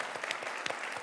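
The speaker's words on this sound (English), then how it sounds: "one final round of applause for Amanda" A keynote audience at a Women in Leadership event clapping for speaker Amanda Beard, a brief dense burst of many hands with a few sharper claps standing out.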